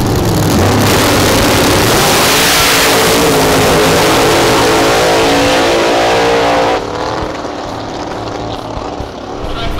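A 1968 Camaro pro mod drag race car runs its engine loud and close, a dense roar that holds steady and then drops slightly in level toward the end, with no talking.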